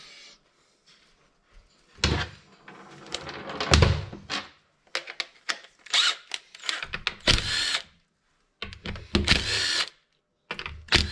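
A tap cuts a thread in a gearbox part from a Tofaş car under repair, heard as irregular grinding and ratcheting bursts with metallic clicks and clatter, separated by quiet pauses, close and fairly loud, with no voices.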